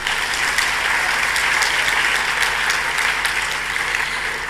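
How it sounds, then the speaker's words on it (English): Sustained, dense applause from a large audience at a conference closing ceremony in a big hall, even and continuous with scattered sharper claps throughout. "If we could give them a round of applause one more time."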